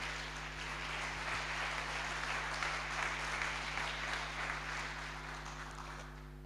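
A church congregation at a prayer vigil gives steady, moderately loud applause that carries on at an even level throughout, with a low hum underneath and no voices.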